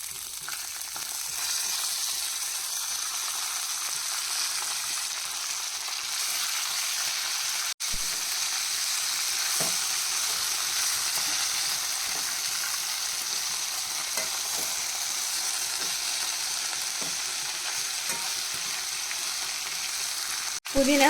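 Mint leaves fry with roasted peanuts, coriander seeds and spices in a pan, giving a steady, close sizzle with occasional stirring scrapes, and a brief sharp knock near the end.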